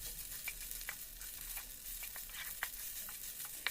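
Rice flour batter with ghee being stirred in a pan, with soft scraping strokes that come every half second or so over a quiet, steady sizzle, close by and faint.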